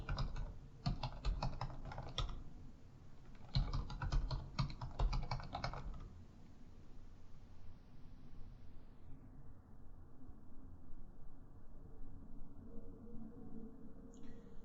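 Computer keyboard being typed on to enter a password, two quick bursts of close, crisp key clicks early on, followed by a quiet room.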